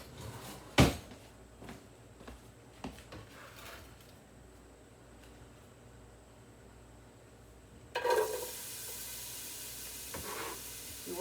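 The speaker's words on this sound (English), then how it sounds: "You want to hear that sizzle?" A steady hiss of oil sizzling in a pan, quiet at first with a few clanks, then a louder burst of crackling spitting toward the end.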